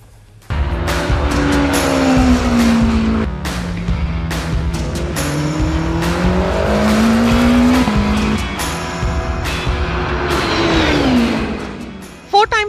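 Porsche 963 endurance race car lapping a track in Aragon, Spain: a loud, close engine howl rising and falling through gear changes and revs, sustained for most of the stretch before cutting off.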